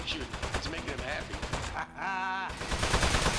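Rapid turret gunfire in the video game Aperture Desk Job, a dense stream of shots running under lively talk and game effects throughout, with a brief tonal game sound cutting in midway.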